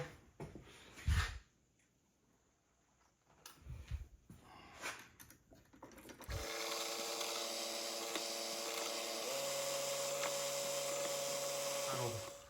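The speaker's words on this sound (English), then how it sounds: "that'll get my drill going correctly" After a few soft handling noises, a number 20 drill bit in a power drill starts up and runs steadily at a high whine, then shifts pitch partway through, while making a Y-axis stop for a PM-728V milling machine.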